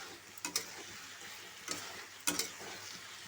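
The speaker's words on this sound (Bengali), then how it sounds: "মশলাটা আমি কষাচ্ছি।" Spice paste is sautéed in a pan for a thin Bengali okra curry. A faint, low sizzle runs throughout, with a few sharp clicks and scrapes of stirring, and nobody speaks.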